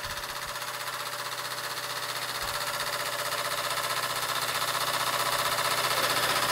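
An American Weeden model 500 toy steam engine runs steadily, producing a fast rhythmic mechanical chuffing and rattling that continues evenly and grows slightly louder toward the end.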